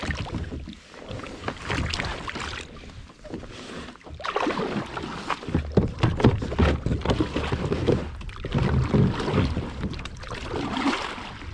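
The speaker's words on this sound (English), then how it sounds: "use a day stroke like the good old days in the canoe" Kayak paddled canoe-style with a single paddle blade at sea, steady rhythmic water strokes and splashes under gusting wind noise, no talking.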